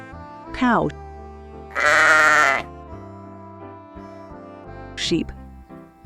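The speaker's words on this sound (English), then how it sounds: "Sheep," A cartoon sheep bleats twice: a long wavering bleat near the start and a shorter one toward the end. Between them comes a loud, bright burst of children's-song music. Other tones and sparse voicing sit underneath.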